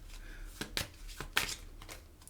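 Tarot cards are shuffled by hand in a few quick, crisp riffling bursts, close and fairly soft, with short pauses between them.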